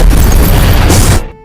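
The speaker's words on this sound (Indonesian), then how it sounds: "ada sebuah mobil yang meledak mengenai dia dan Sam terpental" A car explodes in a horror film with a loud, dense blast and crash that roars for about a second before cutting off abruptly into silence.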